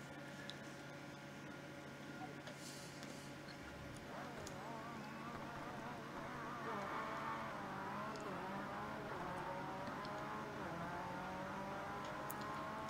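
A Group B rally car engine in the Rallisport Challenge 2 video game revs and climbs in pitch over a steady drone, fairly faint and continuous.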